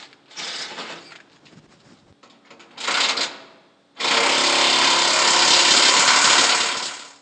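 A power tool tightens a half-inch flange nut on a Victory 4x4 skid plate under a Toyota Tacoma, with two short whirring bursts followed by a longer steady, loud run close by.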